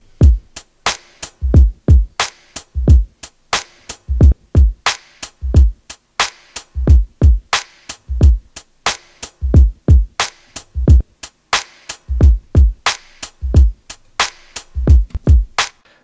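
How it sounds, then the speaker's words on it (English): A processed drum loop run through a Sonible EQ plugin, with a steady pattern of punchy low kicks and crisp, bright hits repeating loud and alone with no voices. "So let's start with the drums."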